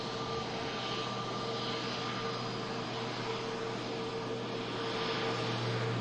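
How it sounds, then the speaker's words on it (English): A British Airways Airbus A320neo lands at Manchester Airport, heard as a faint, steady engine roar with a constant hum that holds at a distance for the whole stretch. "British Airways, Airbus A320 Neo just touched down as well here at Manchester Airport"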